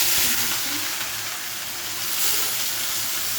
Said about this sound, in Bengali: এখন মাংস রান্না করছি। তেলের চিনি দিয়েছিলাম